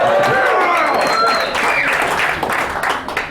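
A festival crowd at the Anarchapulco 2019 advocacy stage responds with steady clapping mixed with cheers and high whistles, loud throughout and tapering slightly at the end.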